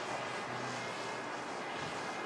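Old DJI Mavic drone flying at night over Tucson, a steady broadband whirring hum of propellers, loud and continuous with a slightly wind-blown texture and no talk.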